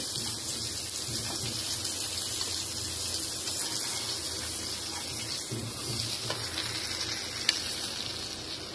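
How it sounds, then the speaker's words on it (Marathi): Fish frying in a pan with turmeric, salt and chili: a dense, steady hiss of sizzling oil, close and constant, with one small click near the end and no talking. "किती भारी फ्राय झाली मच्छी। आता याला काढून घेऊ"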